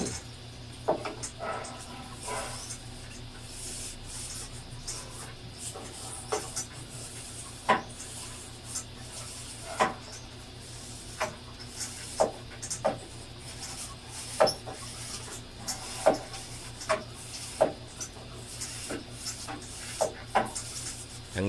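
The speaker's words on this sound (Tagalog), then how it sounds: "sa loob din, nilagyan ko na ng uh, sabon at binabras para matanggal" An air-conditioner condenser being scrubbed with a soapy brush during cleaning: repeated scratchy rubbing strokes, close and moderately quiet, over a steady low hum with no talking.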